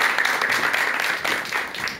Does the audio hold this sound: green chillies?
no